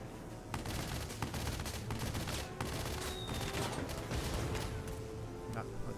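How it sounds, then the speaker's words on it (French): Gunfire from the Valkyria Chronicles 4 video game, a dense and steady barrage of shots over a loud battle din that persists throughout. "Ah, Otacon qui tire."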